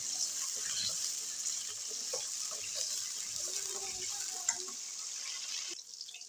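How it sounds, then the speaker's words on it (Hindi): Potatoes frying in a karahi give a faint, even hiss of oil with light crackles and a small clink, close by and without speech. "आलू का हमने हल्का सा ब्राउन होने तक फ्राई कर लेना है।"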